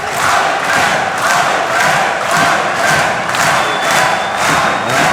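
A fight crowd at a RAJU 16 combat event cheers and chants in loud rhythmic waves, a dense roar of voices pulsing steadily throughout.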